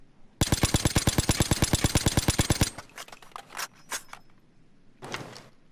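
A suppressed Colt 727 (AMCAR) assault rifle in Payday 2 fires one long, steady full-auto burst of about two seconds, with sharp, evenly spaced muffled cracks, followed by a few scattered clicks and clatters.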